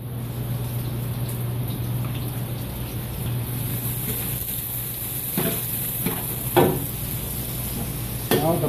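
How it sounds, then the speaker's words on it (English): Onions and garlic sautéing in a pan for pork belly adobo, a steady low sizzle with occasional stirring clatter and scrapes, close by under a constant background hum. "Saute the onions and garlic."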